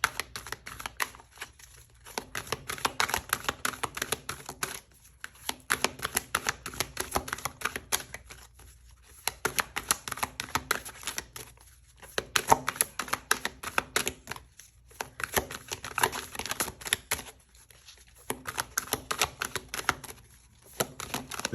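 A deck of tarot cards is shuffled by hand in repeated bursts of crisp riffling and flicking, each lasting a couple of seconds and separated by brief pauses, close and fairly quiet.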